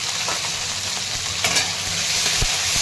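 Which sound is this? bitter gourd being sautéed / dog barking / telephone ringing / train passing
bitter gourd being sautéed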